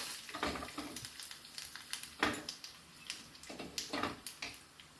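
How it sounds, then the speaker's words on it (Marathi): Hot oil tempering crackles and sizzles in quick bursts as it is poured over peanut chutney, faint and close, with scattered pops over a soft hiss and no talking. "मस्त अशी आपली फोडणी देखील तयार आहे ही आपण त्या चटणीवर घालून घेऊ"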